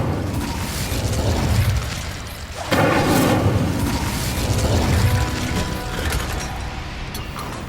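The Incendio fire spell is cast in the video game Hogwarts Legacy, a loud, dense roaring burst that swells abruptly partway through and sustains, rumbling and crackling, with no talk over it.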